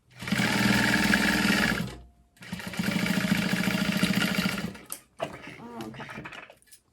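A sewing machine stitching bonded nylon blanket fabric in fast, continuous mechanical runs: two long buzzing bursts, then a shorter stop-start stretch with lighter clicks, close and loud.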